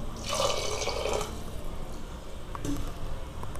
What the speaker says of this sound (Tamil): நல்லா மூழ்கிற அளவுக்கு தண்ணி ஊற்றிடலாம்.